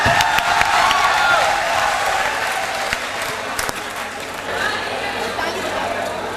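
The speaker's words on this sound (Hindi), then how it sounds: "Clap everyone, clap." Applause from an audience at a college fresher party in Varanasi, a dense steady patter of many hands sustained throughout at a moderate distance, with crowd noise and some speech mixed in.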